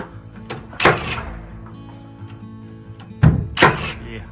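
A pneumatic nail gun fires twice into wood during framing and wall layout for an Ozark cabin build, each shot a sharp close thunk about three seconds apart over faint background noise.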